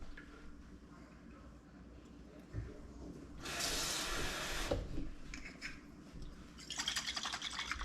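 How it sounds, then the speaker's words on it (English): A second bottle of marinade for deer jerky pours out in a gurgling, splashing burst lasting about a second, followed by softer rustles and a later trickle. "Dump our other bottle in."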